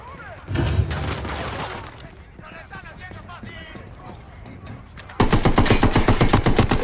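Gunfire in Ghost Recon Wildlands, bursts of rapid automatic shots, loud and close, most intense in a dense rattling volley near the end, with speech and combat noise around it.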